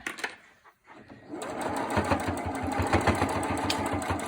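A sewing machine stitches around the edge of a pleated fabric face mask, a close, steady rapid whirring that starts after a brief quiet pause and runs continuously to the end.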